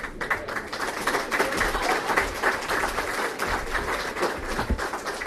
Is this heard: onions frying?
no